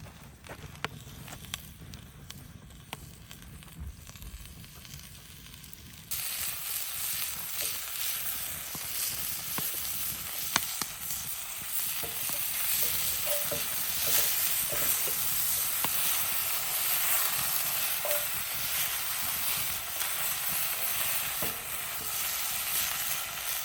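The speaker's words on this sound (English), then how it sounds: "the meat is browning pretty quickly" Beef browning in a Dutch oven over a campfire, a faint crackle that jumps to a steady, louder sizzle and hiss partway through, with occasional stirring clicks.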